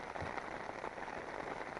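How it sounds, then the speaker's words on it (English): Steady rain patters on a taut tent close overhead during a cold winter camp on an open fell, a dense continuous drumming with no voices. "Listening to the rain."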